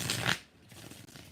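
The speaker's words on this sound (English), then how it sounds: "2 more shuffles." Tarot cards are shuffled in one quick riffle, a short papery burst that stops abruptly and gives way to a quiet room.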